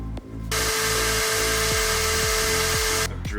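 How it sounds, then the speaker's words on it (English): A power drill bores into a metal gear, giving a steady, high-pitched whine for about two and a half seconds that starts and stops abruptly. It is close and heard alone. "I've drilled into this gear"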